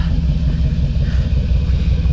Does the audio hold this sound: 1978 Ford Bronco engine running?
yes